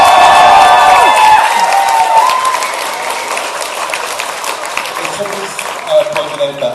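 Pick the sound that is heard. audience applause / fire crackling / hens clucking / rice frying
audience applause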